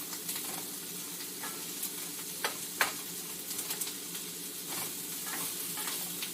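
Onions brown in a pot for a red braised beef stew, a quiet, even sizzle punctuated by occasional sharp crackles and light stirring clicks, with no talking.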